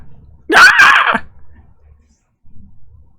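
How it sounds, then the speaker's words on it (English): A monster's loud, harsh screech rings out beyond a city's walls in a fantasy setting, a single shrill cry of about a second. Faint low rumbling follows, and a brief, soft thud comes later. "You can hear these large stampeding feet and screeching sounds."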